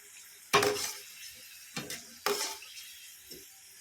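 Potato chips frying in hot oil give short bursts of crackling sizzle with a few scraping, clattering stirs, loud at first and then fading into quieter gaps. No one speaks.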